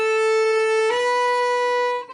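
A bowed string instrument plays two sustained slurred notes starting on A, the pitch stepping up once partway through, clear and alone with no talking.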